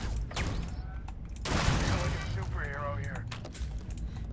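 Turret gunfire in the space game Starfield, rapid cracking bursts and mechanical clatter mixed with a loud blast midway, heard alongside a speaking voice and other game effects.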